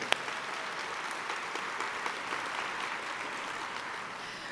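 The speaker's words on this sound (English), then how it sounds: "let's give it up one more time for all the council members here tonight" A crowd at a State of the City address in Long Beach claps steadily and enthusiastically, a dense even wash of applause with one sharp clap standing out at the start.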